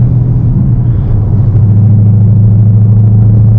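Ford Mustang GT S550 with an MBRP Race catback exhaust drives at steady low revs, a loud, deep, continuous droning rumble close up with no talk over it.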